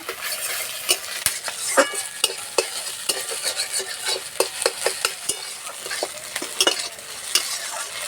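Vegetable maggi noodles frying in a kadai with a little salt, a utensil scraping and stirring through them in steady strokes over a continuous sizzle, with sharp clinks of metal on the pan.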